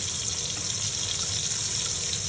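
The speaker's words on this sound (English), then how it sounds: "And I'm going to put my grits in." Grits being poured into a pot of salted water on a stove, giving a steady, close rushing and pouring sound that lasts a couple of seconds.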